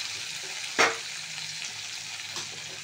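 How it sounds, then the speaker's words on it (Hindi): A sharp sizzle as spinach, green chili, tomato and spring onion hit hot oil while tempering khichdi, one loud burst early, then a low steady frying hiss with a faint second crackle near the end. "आज मैं बघा रही हूँ दोस्तों खिचड़ी, और यहीं पे मैंने डाल दिया पालक, हरी मिर्ची और टमाटर"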